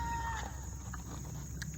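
Goats on a farm, faint bleats and animal sounds mixed with livestock noise over a steady outdoor background, a short burst of scattered calls.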